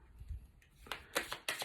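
A petite tarot deck of thick cardstock is riffled in a few quick papery bursts, close and fairly soft, following a quiet pause.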